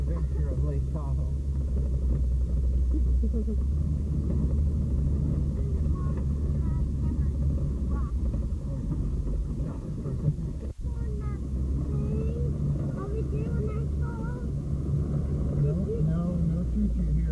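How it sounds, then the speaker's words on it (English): Steady low engine rumble and drivetrain drone of a rented Jeep Wrangler crawling off-road on the Rubicon trail near Lake Tahoe, continuous and close, with people talking over it and one sharp knock partway through. "we've rented a Jeep Wrangler for the day"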